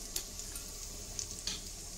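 Asafoetida drops into hot oil for a tempering while gawar bhaji is being cooked, giving a faint, steady sizzle broken by a few sharp crackles.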